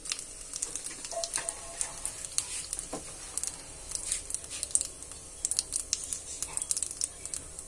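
Asafoetida and a chopped onion fry in a pan for aloo paratha, giving a steady close sizzle with crackling pops and light stirring scrapes throughout, moderately quiet with no talking.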